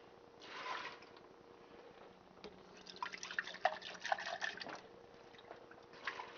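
Cups of water are poured onto a tray of sprouts, giving quiet trickling and dripping with small splashes that come and go in a near, faint stretch.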